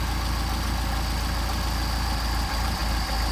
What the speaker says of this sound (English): Hear the engine starting to degrade.